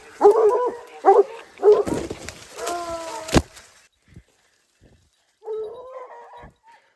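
Several hunting dogs on a wild boar hunt in the Cantal, France, bark and yip in short bursts at close range, with whining tones, a sharp knock, and quiet gaps between the outbursts.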